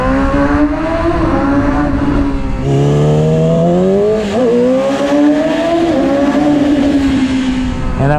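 A Yamaha YZF R6 sport bike accelerates hard from first gear. The loud, close engine note climbs steeply, drops briefly at a gear change, then climbs again with a rising, wavering whine.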